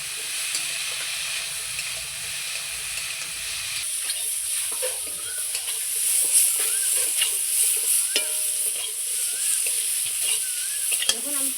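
Ripe pointed gourd pieces fry in oil with salt and turmeric, giving a steady close crackling sizzle with spatula stirring scrapes and clicks scattered throughout.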